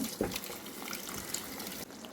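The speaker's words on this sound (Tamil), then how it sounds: "இப்போ மிக்சி கழுவின தண்ணி ஆட் பண்ணிக்கலாம்" Water left from rinsing a mixer jar is poured into a cooking pan of mutton chops, a steady close splashing and trickling pour that ends abruptly near the finish.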